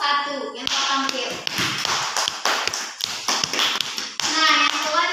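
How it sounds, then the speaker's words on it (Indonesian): Schoolchildren clap in a classroom, a dense run of hand claps lasting several seconds while a voice and other chatter sound over it. "mari kita beri aplaus buat kelompok 1 yang telah tampil"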